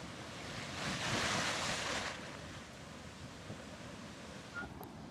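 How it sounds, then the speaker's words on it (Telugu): Waterfalls pour down at a foggy, rainy viewpoint in Mahabaleshwar, giving a steady broadband rushing roar mixed with wind buffeting the microphone; the sound swells slightly early on and then holds, with no voices. "వాటర్ ఫాల్స్ ఇక్కడ పడుతున్నాయి"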